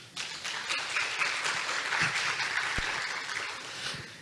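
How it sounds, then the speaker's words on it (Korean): Audience applause from a crowd at an ESG international investment conference in 2022, a steady dense wash of many hands clapping that holds evenly for about four seconds and tapers slightly at the end. "여러분 박수 한번 부탁드리겠습니다."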